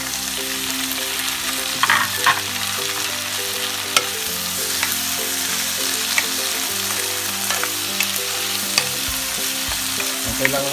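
Tomato sizzles in a hot pan with oil for pork binagoongan, a loud continuous frying hiss with occasional spatula scrapes and clicks as it is stirred.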